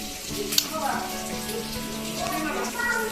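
Chicken frying in a pan for a biryani, a soft continuous sizzle and crackle running throughout beneath a voice and clattering kitchen sounds, with a sharp clink near the start.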